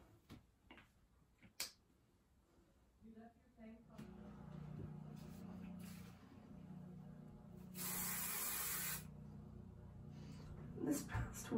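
Hairspray from an aerosol can, heard as a sharp hissing burst lasting about a second, close and loud, after some clicks and taps, with a low hum and speech-like murmur running underneath.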